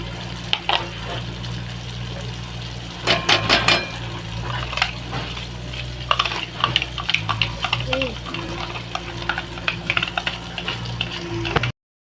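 Masala fries in a pan for a salted brinjal (kharya vangyachi) dish, a steady sizzle broken by scraping, clattering stirs of a spoon against the pan, heard up close with a voice speaking over it.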